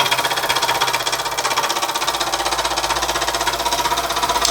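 A Mamod Minor 2 toy steam engine, cleaned and partly repainted, running steadily close by: a rapid, even mechanical chuffing and clatter, loud and unbroken throughout with no voices.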